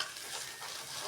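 Egg fries in oil in a pan with a steady, dense sizzle, close and continuous for about a second, with no voices.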